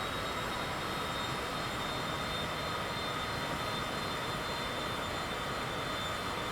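Cessna aircraft engine in Microsoft Flight Simulator 2020 on a London Southend to Gatwick flight, a constant broadband engine drone with a high whine, steady and loud with no talking.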